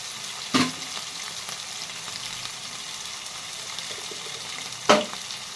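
Cluster beans (gorichikkudu) fry in a pan with a steady, low sizzle, broken by two brief louder scraping bursts, likely stirring, near the start and near the end.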